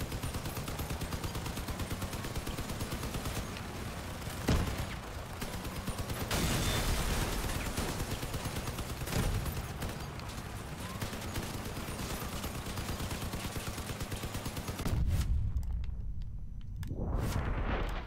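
Light machine guns fire in rapid sustained bursts during Crossout vehicle combat, dense loud rattling that continues almost without pause, with a few heavier impacts and a brief drop near the end.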